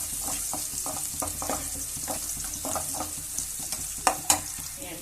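Chopped onion sizzling and frying in hot oil, a steady crackle broken by repeated stirring scrapes and a couple of sharper knocks near the end, close by and moderately quiet, with no voices.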